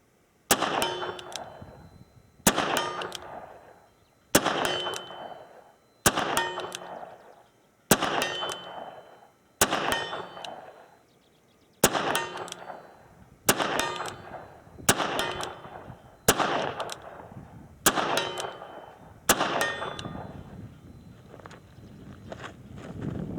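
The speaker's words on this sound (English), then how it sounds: "38 Special going out to the 50 plus yard, single action" A 1979 Colt Python revolver firing .38 Special rounds single action, a steady series of about twelve sharp, loud shots spaced roughly two seconds apart, each ringing out with a long echoing decay outdoors.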